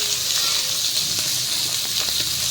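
Garlic with ground onion frying in hot oil gives a steady, bright sizzle and hiss, close and continuous, with a few small pops and crackles scattered throughout.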